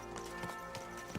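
Hooves of Ciri's horse Kelpie in the video game Witcher 4 clip-clop in a short burst of three or four muffled strikes over a steady low game ambience.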